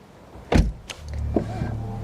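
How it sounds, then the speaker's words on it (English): The electric window motor of a 2023 Mercedes-AMG SL43 whirs steadily for over a second after a sharp thump, close and moderately loud in a quiet cabin. "Of course the windows are going up"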